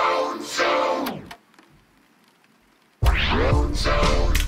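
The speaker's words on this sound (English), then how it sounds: "it's kind of like a little tape player going on and off and rewinding" Tape stop, play and rewind effects on an Arturia MK3 keyboard: a short sweeping burst with pitch slides, a pause of near silence, then a loud warbling rush of pitch-shifting sound like a tape player starting and rewinding.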